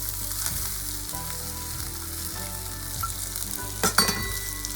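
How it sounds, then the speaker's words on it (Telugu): Oats frying in a pan give a strong, continuous sizzle with the rhythmic scrape of stirring, and a brief louder clatter near the end. "ఇది కూడా కొంచెం ఫ్రై అయ్యేదాకా కొంచెం వేయించుకోండి"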